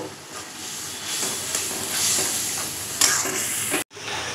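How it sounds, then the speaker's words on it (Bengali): Ground spices with turmeric frying in oil in a pan, giving a steady loud hiss and sizzle that runs throughout, ending in a brief drop-out near the end, with no talk. "এবার ভালো করে আমি কষিয়ে নেব।"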